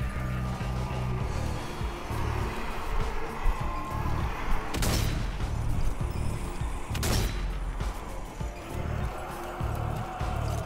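Dense, continuous gunfire and explosions roar through a zombie shooter, Army 4: Dead War, with two sharper bursts standing out midway in an unbroken loud barrage.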